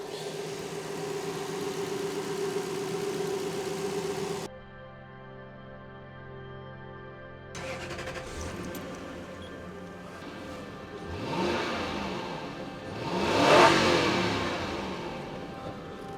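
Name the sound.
Toyota Celsior engine starting and revving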